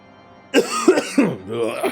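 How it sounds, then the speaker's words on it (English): A person coughs and clears their throat in a few short, close bursts, with a voice mixed in. "Cough is still there."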